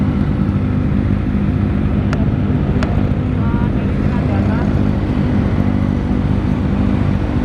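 A Kawasaki ZX25R motorcycle fitted with an Austin Racing exhaust gives a steady, low, buzzing rumble close by, mixed with constant wind buffeting on the microphone.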